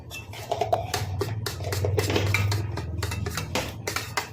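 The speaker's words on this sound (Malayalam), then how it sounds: "ഒരു കപ്പ് തൈര് എടുത്ത് വെച്ചിട്ടുണ്ട് അത് സ്പൂൺ കൊണ്ടോ ഫോർക്ക് കൊണ്ടോ ഇതുപോലെ ഒന്ന് ബീറ്റ് ചെയ്ത്" A spoon or fork beats a cup of yogurt in a bowl for a chili-free Kerala chow chow pachadi, giving quick rhythmic scraping and clinking close by, steady throughout without talk.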